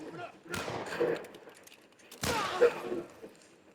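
Gunfire in the video game The Last of Us Part 1: two loud, sharp shots about two seconds apart, each followed by a decaying echo, with faint background game ambience.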